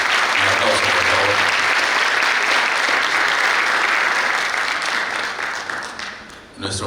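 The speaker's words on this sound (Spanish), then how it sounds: "Un aplauso, por favor." Audience applause at a Rotary peace forum: sustained, dense clapping from a large crowd, steady and loud throughout before tapering slightly near the end.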